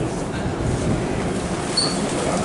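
Saint Petersburg metro train running underground, a steady loud rumble of wheels and carriage noise throughout, with a brief high squeal near the end.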